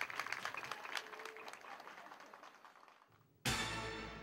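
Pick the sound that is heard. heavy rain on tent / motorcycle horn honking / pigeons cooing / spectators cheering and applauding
spectators cheering and applauding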